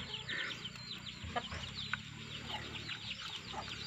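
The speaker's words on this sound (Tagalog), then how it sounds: "May sisiw na, oh." Chicks and a hen clucking and cheeping close by in a Filipino backyard setting, a steady run of soft high chirps and short clucks with a low background rumble, no talk.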